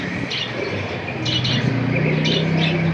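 Pigeons at a seller's collection, a single male among them, give several short chirpy calls over a constant low hum and background noise, fairly close and moderately loud.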